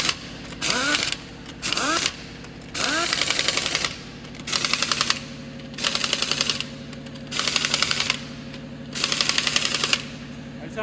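An impact gun set to its lowest setting hammers wheel nuts onto a Honda CR-V hub, seven loud rattling bursts in a steady rhythm with short pauses between, with a constant hum underneath.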